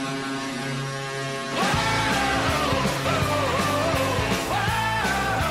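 A rock song starts up after a brief stretch of steady background hum, then plays at a strong, even level with a driving beat, with no talking over it.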